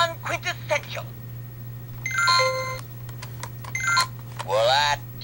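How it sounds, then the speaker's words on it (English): Electronic beeping from an alarm clock in short repeated bursts and tonal chirps, mixed with a voice speaking, a steady low hum running underneath throughout. "if the alarm don't quit, up you must get"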